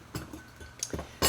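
Old silverware being handled gives a few light, quiet clinks and taps spread unevenly over a brief moment, with a sharper clink at the end.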